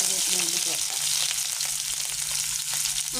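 Ginger and green chilli fry in hot oil after mustard seeds in a pan for a snake gourd and egg dish, a close, continuous sizzling crackle with faint stirring scrapes.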